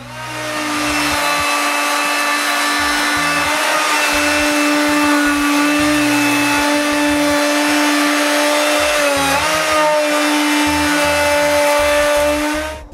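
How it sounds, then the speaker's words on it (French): A large router cuts a half-inch groove into raised wood panels with a groove bit, a loud steady high-pitched whine that holds for over ten seconds with a brief dip in pitch under load, alone without talk. "je prends ma grosse toupie avec cette mèche à rainure-là"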